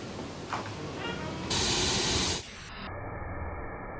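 Water sprays in a loud, steady hiss for about a second while a truck and RV are washed, then cuts off into quieter background noise.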